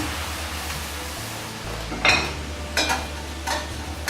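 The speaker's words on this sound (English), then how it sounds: "I'm going to turn off my heat and add the broth to release from the bottom of the pan." Broth poured into a hot stir-fry pan with browned tofu, the heat just switched off, giving a steady low sizzle and hiss with a few brighter bursts of spattering as the liquid hits the pan.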